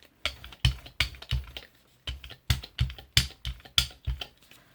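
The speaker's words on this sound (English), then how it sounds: "Let's go ahead and brayer that on." A brayer rolled over paint on a gel press plate gives a string of about a dozen short, tacky swishing strokes, each sharp at the start and quickly fading, at an even back-and-forth rhythm.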